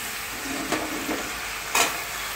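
Malabar spinach (pui shak) drops into a pan of frying spices, bringing a steady sizzle with a couple of brief louder hissing bursts as the leaves hit the hot oil.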